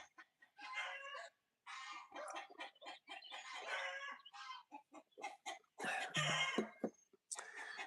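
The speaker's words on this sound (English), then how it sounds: "that is actually a rooster" A rooster in a backyard chicken coop gives repeated harsh, throaty calls and clucks rather than a full crow, close and insistent, coming in rough bursts with brief gaps.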